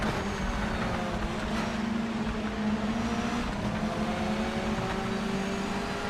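A race car in the Project Motor Racing sim, a steady engine drone holding close behind throughout, with a faint pitch shift as it closes in and passes; no talking.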